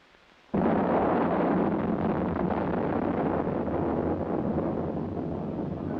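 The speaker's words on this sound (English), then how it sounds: "The 115mm multiple rocket launcher M91 is designed to be transported by ground or air" Rocket launch from an M91 115mm multiple rocket launcher, a sudden loud roaring blast that holds as a sustained rushing, wind-like roar for several seconds.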